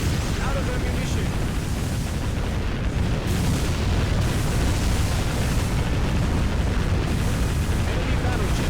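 A sinking enemy battleship in the naval game Warship Gunner 2 rumbles through a dense, continuous wash of explosive booms and churning low roar that stays loud and steady throughout, with no pauses.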